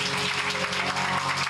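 A church congregation claps loudly on cue during a sermon, a short burst of dense, close applause with a low hum underneath.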